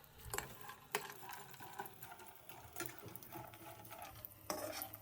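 Semolina halwa with raisins roasting in a pan, with a faint, steady scraping and stirring texture and occasional sharper spoon knocks, fairly quiet and close, with no talking.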